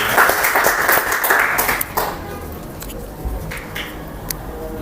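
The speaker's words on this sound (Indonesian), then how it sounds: "tepuk tangan untuk kelompok 4" Classroom audience applauding a student group after its presentation, a dense burst of clapping for about two seconds that thins out into scattered claps and room noise.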